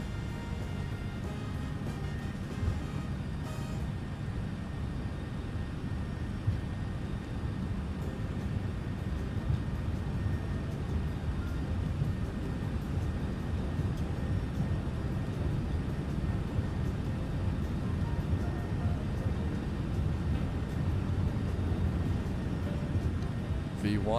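Airliner jet engines hold a steady, heavy roar at takeoff thrust in a flight simulator, a continuous rumbling drone that fills the whole stretch.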